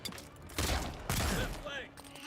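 Gunfire in the fantasy video game Avowed: a couple of loud, dense bursts of shots over busy combat sounds, with a voice talking through the fight.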